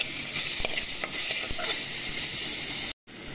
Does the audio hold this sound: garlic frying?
yes